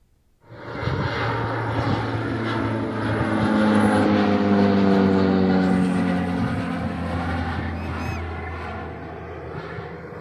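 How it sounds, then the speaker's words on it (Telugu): A jet plane circling over villages in Mutharam mandal, Peddapalli district, gives a loud, steady droning roar that swells and slowly shifts in pitch as it passes overhead. "పెద్దపల్లి జిల్లా ముత్తారం మండలంలో గాల్లో విమానం చక్కర్లు కొడుతోంది."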